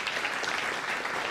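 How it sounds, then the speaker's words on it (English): An audience at a guide dog class graduation gives continuous applause, a dense, even wash of many hands clapping at once, steady in loudness throughout with no talk over it. "So a round of applause for California Guide Dog Class 1050, Orientation and Mobility Immersion Class 44."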